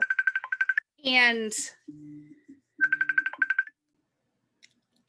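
A phone ringtone chirps in rapid bursts of electronic beeps, pausing between rings, with a brief spoken word in the middle.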